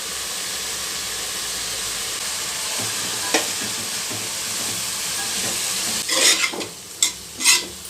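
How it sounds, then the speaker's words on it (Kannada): Broccoli tipped into a hot pan and stirred, a steady sizzle of frying throughout with a few sharper scraping clatters of the spatula near the end. "ಈಗ ಬ್ರೋಕಲಿ ಹಾಕ್ತಾಯಿದ್ದೀನಿ"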